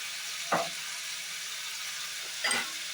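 Chili baby corn stir-frying in a pan, a steady hiss of frying with two brief stirring scrapes spaced a couple of seconds apart, moderately quiet and close.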